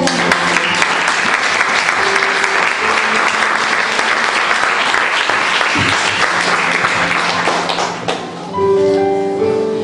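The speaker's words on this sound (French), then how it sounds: "On acclame le Seigneur." A church congregation applauds in praise, steady broadband clapping filling the room for about eight seconds before dying away, with a few voices and tones emerging near the end.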